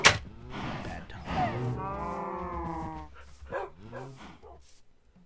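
Minecraft cows moo in a video game. One long, drawn-out, tonal moo stands out in the middle, with shorter animal calls and game sounds around it and a little background chatter.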